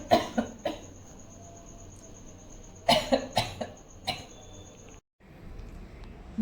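A patient with a large incisional hernia coughs on request during examination, giving several short, sharp coughs in quick bursts near the microphone, separated by brief pauses and a moment of near silence toward the end.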